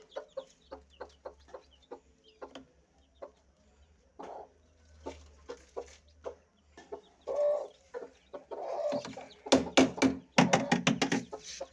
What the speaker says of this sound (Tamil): பாருங்க 5 குஞ்சுமே பொறிச்சிருக்கா